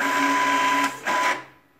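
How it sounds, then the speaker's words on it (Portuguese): Canon MG3010 inkjet printer printing a page, a short mechanical whirring hum with a brief pause mid-way, then a second burst that fades out, close and fairly loud with no talk. "Começa agora a impressão."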